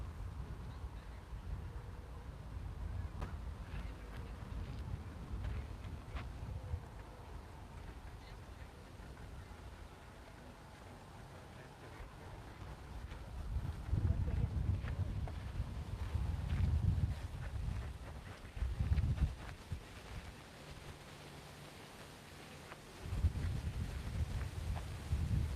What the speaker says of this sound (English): It's windy again, it's the same last Sunday. Very breezy.